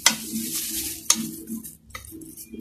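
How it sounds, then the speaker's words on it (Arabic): A metal spoon presses and scrapes around the edges of a tray of layered chips pastry, giving a few sharp clinks and soft scraping strokes, close and alone. "كل الحواف بحاول ان انا اضغط عليها بالمعلقة"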